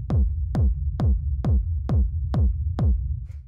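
A 909 drum machine kick for dark industrial techno, built from layers of the same sample, thumps seven times at an even pace. Each hit is punchy with a downward-sweeping tone and a low tail beneath.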